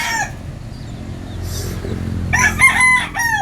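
At a fighting-cock farm, roosters crow close by, with one long crow at the start and a brighter, louder crow in the final second. Faint clucks and farm background fill the gaps.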